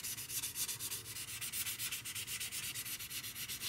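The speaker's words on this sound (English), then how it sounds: "sand this down." A Tamiya P-47M scale model part is lightly sanded by hand in quick, even back-and-forth strokes, producing a close, steady rasping rhythm with no voices.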